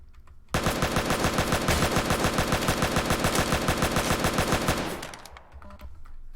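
A soldier's assault rifle in a modded video game fires one long, rapid automatic burst for about four and a half seconds. It is loud and steady, then trails off into a fading echo and quieter background noise.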